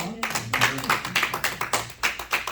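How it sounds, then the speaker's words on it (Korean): A church congregation claps to welcome a new member, a brief burst of many hands applauding together at close range, with a voice speaking over the start. "환영의 박수 하겠습니다"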